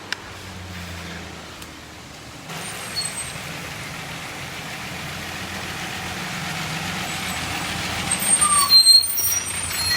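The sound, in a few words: big truck passing with air brakes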